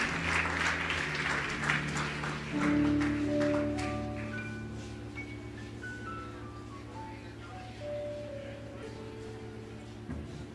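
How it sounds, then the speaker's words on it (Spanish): A church congregation claps and cheers loudly for a few seconds, then the clapping thins and fades under sustained keyboard or organ chords and a rising melodic line. "¡Dale más fuerte ese aplauso al Rey!"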